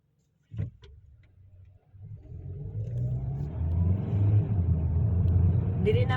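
A car speeds up along a highway, its engine rumble building from a low hum into a loud, sustained roar heard from inside the vehicle, with a sharp knock just before the rise.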